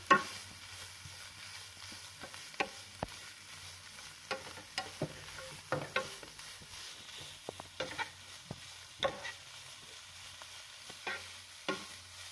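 A spoon stirs a spiced chicken masala filling in a hot pan, making a soft ongoing sizzle broken by irregular scraping clicks and taps against the pan. No voices are heard.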